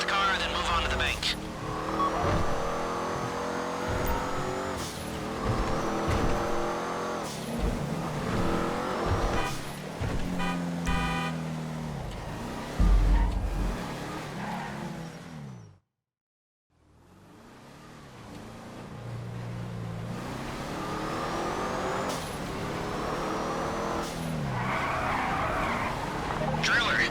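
A car drives hard in the video game GTA 5 Online, with a roaring engine and repeated tire squeals and skids. Characters talk over it, and the sound cuts out briefly near the middle before resuming.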